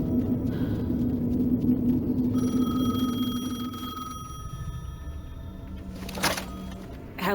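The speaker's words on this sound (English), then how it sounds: "The payphone was ringing." A payphone rings in the video game Alan Wake 2, a steady electronic tone held for several seconds over a low rumbling ambience, then cut off, followed by a brief burst of noise.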